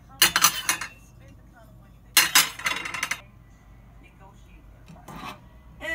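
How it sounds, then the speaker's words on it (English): Dishes being unloaded clink and clatter in three separate bursts, the middle one longest, with quiet pauses between them. "Dishes come out."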